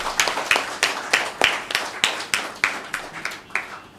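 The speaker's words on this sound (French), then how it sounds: "Les partenaires médias qui sont là, et veuillez bien les applaudir d'abord" An audience at a training-course closing event claps in a loose, uneven rhythm, with sharp distinct hand claps close by over about four seconds.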